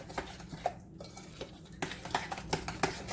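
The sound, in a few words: mixing black pepper and salt together in a bowl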